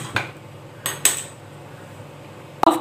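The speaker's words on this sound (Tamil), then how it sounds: "இப்போ ஒரு பேன் எடுத்துக்கலாங்க," A cooking pan being picked up and set down on a stove while making a Tamil green gram susiyam sweet, giving a few sharp metallic clanks spaced over a few seconds, with a final louder clatter at the end.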